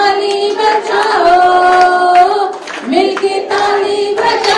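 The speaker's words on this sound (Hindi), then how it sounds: "मिलके ताली बजाओ, यीशु राजा आया है।" A crowd at a 2022 Christian worship conference in Goa claps along to a lively Hindi worship song. Steady rhythmic hand claps sit beneath loud group singing and music for the whole stretch.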